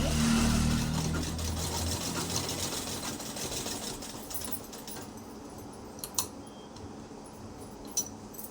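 A sewing machine stitches fabric layers: a loud, rapid mechanical rattle at the start quickly fades to a quiet hum, broken by a couple of sharp clicks.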